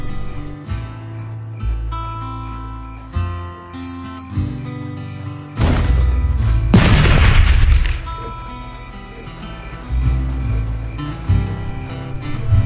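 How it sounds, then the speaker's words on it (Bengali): Fuel drums exploding in the video game Last Day on Earth, heavy booming blasts bursting out over looping game music, with one loud long explosion rumbling for a couple of seconds mid-way. "তাহলে ড্রামগুলো ব্লাস্ট হয়ে যায়।"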